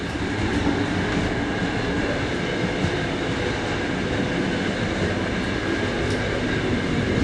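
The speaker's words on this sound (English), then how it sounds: "We're in between the carriages here, and this is where you can have a cigarette." Noise from the space between carriages of a moving passenger train from Volgograd to Moscow, a constant loud rumbling roar of wheels and couplings with faint metallic squeals, unbroken throughout.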